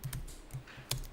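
Computer keyboard typing during accounting data entry, a few quiet, quick key clicks in a short burst, close and alone.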